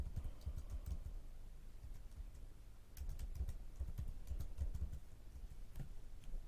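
Quick, light clicking of keys on a computer keyboard as a password is typed, a steady patter of close keystrokes with a brief pause in the middle.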